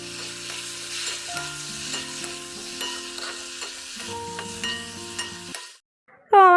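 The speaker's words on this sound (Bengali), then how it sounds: "পেঁয়াজটা ভাজা হয়ে যাক তারপরে একটুখানি আলুটা ভেজে নেব" Onion and potato fry in a pan with a continuous sizzle and scraping stirs, with steady background music droning underneath, then a short near-silent gap and a burst of something louder at the very end.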